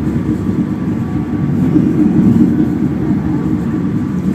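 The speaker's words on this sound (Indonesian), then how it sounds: "ada lokomotif CC2061308" A train hauled by locomotive CC2061308 rumbles past near Jatinegara–Pondok Jati, a loud, steady low roar of wheels and cars filling the whole stretch.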